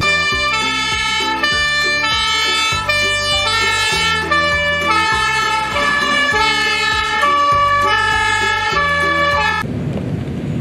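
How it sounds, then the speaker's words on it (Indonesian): A fire engine siren wails in a loud, steady repeating two-tone pattern, close and dominant, cutting off abruptly near the end. "lihat teman-teman, ada mobil pemadam kebakaran"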